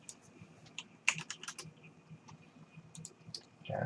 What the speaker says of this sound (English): I'm going to just type in hubcap and tire